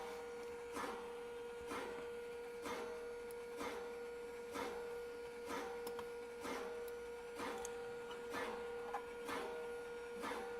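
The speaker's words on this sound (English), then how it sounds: "trying to figure out what the scraping noise is" A Skywalker V1 coffee roaster with a rotating drum runs with a steady hum, and a rhythmic scrape comes around about once a second, faint and even, with no talk over it.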